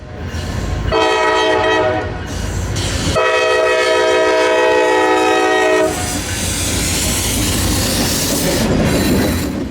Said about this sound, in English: This is CSX train L230, a weekday turn running south out of the Greenville yard along the railroad's Parmeal subdivision.